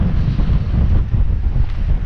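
Strong wind gusts across the high moor on Dartmoor, buffeting the microphone with a loud, low, continuous roar and no voices.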